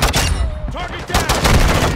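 Loud, repeated gunfire in the video game Call of Duty: Modern Warfare II. Sharp shots crack in quick clusters against game noise, with some voice in the mix.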